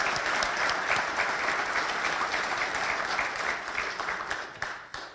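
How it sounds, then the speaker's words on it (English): Diners at a golf association president's dinner give award winners a steady round of applause that holds level and then tapers off toward the end. "if we could just have one more round of applause for all the award winners"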